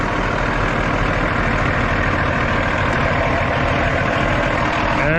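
A semi truck's diesel engine idles close by with a loud, steady low rumble and even mechanical throb, holding unchanged throughout with no voices over it.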